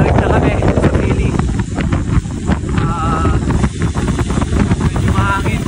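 Gusty wind buffets the microphone aboard a boat heading back toward port, a loud, rough rumble that swells and dips throughout, with voices talking over it.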